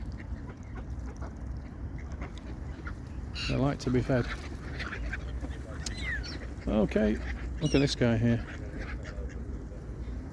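A few short bursts of duck quacking from nearby birds, mixed with people talking over steady outdoor background noise.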